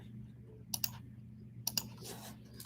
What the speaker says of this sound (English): So let me type that on there.